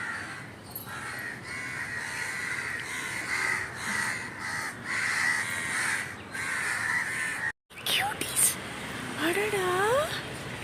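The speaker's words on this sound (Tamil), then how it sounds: "காக்கை குஞ்சுகளை நல்லாவே பார்க்க முடியுது." Crow chicks cawing at the nest, their harsh calls steady across the clip with bird sounds around them, then a brief gap followed by rising whistled calls near the end.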